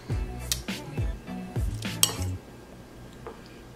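A spoon stirs albóndigas, a Mexican meatball soup with salsa squeezed in, clinking against a pot in a few quick scrapes and taps up close, then the stirring fades to quiet.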